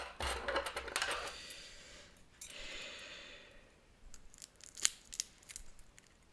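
Close, quiet scissors snipping through board game components, a few short crisp cuts and rustles with small clicks in between.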